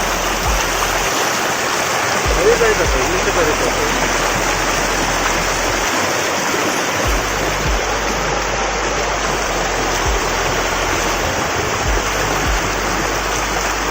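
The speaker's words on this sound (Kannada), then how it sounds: "ನದಿ ಹರಿತಾ ಇದೆ." A river at Mantralayam flows steadily and loudly, a dense continuous rush of water filling the whole stretch without a break.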